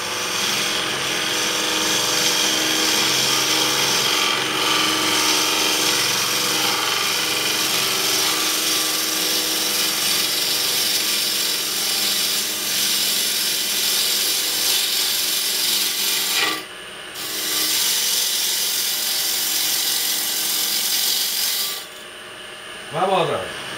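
A cutting tool grinds and rasps against wood in a long, loud, continuous stretch with two brief drops, close up and with no talk over it.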